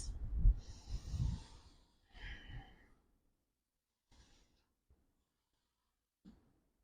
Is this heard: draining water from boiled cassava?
no